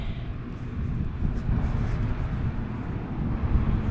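Steady wind buffeting a microphone outdoors during a metal detecting hunt, a continuous low rumble with gusty swells and no voices.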